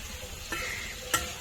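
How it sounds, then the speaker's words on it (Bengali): Fried potatoes are stirred into a turmeric spice paste in a pan for a stingray curry. A steady low sizzle runs throughout, broken by two brief, close scraping stirs. "এবার আবারও কিছুক্ষণ আলু দিয়ে কষে নেব"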